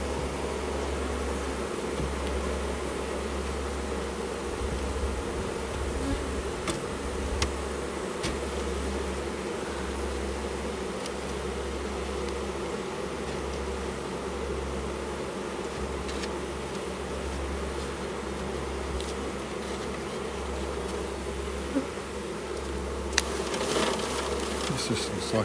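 Honeybees hum in a steady, continuous drone around an open hive whose frames are being shaken and checked, close by and at a fairly even level with occasional faint clicks.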